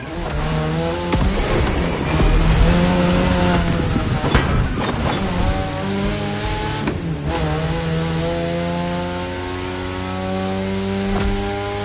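A car drifting hard through a run of sharp turns in a racing game, the engine revving loudly with sweeping pitch bends and bursts of tire squeal throughout, with music layered underneath.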